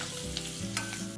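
Cumin, curry leaves, asafoetida and ginger-garlic-green-chili paste sautéing in hot oil, a faint close sizzle with light stirring, brief and without speech.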